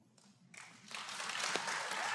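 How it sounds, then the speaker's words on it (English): Audience applause during a Cherokee Nation principal chief and deputy chief debate, rising from faint scattered claps into a steady, fairly loud round of clapping that continues to the end. "Please hold your applause until the end of the debate."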